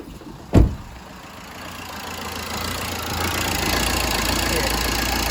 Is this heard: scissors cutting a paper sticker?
no